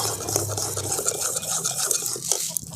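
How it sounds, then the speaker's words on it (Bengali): A spoon scrapes and rubs steadily through thick mango pulp in a pan as it is stirred dry, a close, continuous gritty swishing with no voices. "সেই জলীয় অংশটাকে আমি একদম নেড়ে নেড়ে শুকনো করে নেব"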